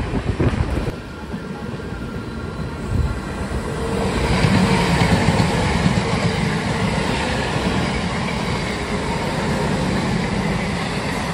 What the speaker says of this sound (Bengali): আমরা এখন ডিপার্চার করছি পাঁশকুড়া জংশন রেলওয়ে